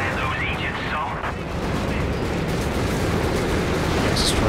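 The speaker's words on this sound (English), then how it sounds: "is that the incendiary bombing from Mule" Incendiary bombing in the real-time strategy game Company of Heroes 3, during a 2v2 match, produces a loud, continuous rumbling roar of fire and blasts, with an excited commentator talking over it.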